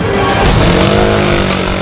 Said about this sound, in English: he throttles up his cycle to nearly 200 miles per hour